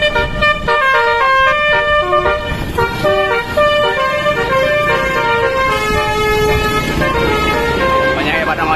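A loud musical horn module on an Indonesian intercity bus plays a rapid melody of tooting notes continuously, with traffic noise and voices underneath.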